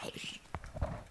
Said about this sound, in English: So I'm just gonna have to lock up Bosco's horse in a second